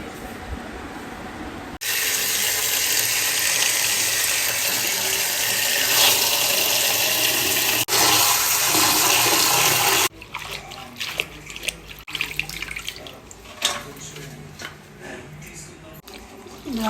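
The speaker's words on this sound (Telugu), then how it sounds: "ఆకుకూర అయితే 2-3 సార్లు కడిగేసుకున్నాం." Tap water runs steadily into a sink while sirraku leafy greens are washed, a loud continuous splash for several seconds that then breaks into softer trickles and handling sounds.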